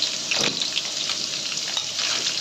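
Potato pieces fry in hot oil until reddish-brown, giving a loud, dense, continuous sizzle close up with faint stirring, no voices.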